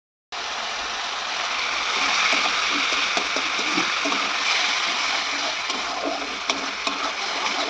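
A spice paste of ginger, garlic, tomato, chili powder and turmeric, loosened with a splash of water, fries in a pan with a loud, steady, close hiss that carries on without a break.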